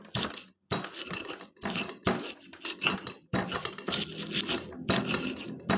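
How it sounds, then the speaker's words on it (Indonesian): A manual hand chopper works through food in repeated bursts of clattering, crunching blade strokes separated by brief pauses, close and fairly loud, with no talk. "kita pakai chopper manual ini, chopper tangan"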